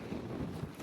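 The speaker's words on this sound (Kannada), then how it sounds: "ಫುಲ್ ಗಾಳಿ." Strong outdoor wind blows near open water on a rainy day, a close, steady, low buffeting rumble on the microphone that lasts under a second with no talking.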